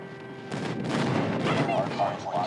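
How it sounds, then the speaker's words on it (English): Friendly airstrike explosions in a shooter video game, a run of heavy booming blasts rolling in from about half a second and continuing steadily to the end, with voice callouts mixed over the barrage. "Friendly airstrike incoming."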